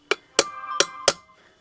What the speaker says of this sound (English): It's a little piece of plastic with aluminum on it, and it allows me to drive the seal